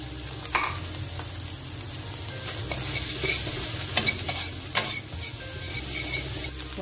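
Vegetables stir-fried in a pan for simple fried rice with scrambled egg and long beans: a steady loud sizzle with scraping stirs and a few clacks of the utensil against the pan, no talking.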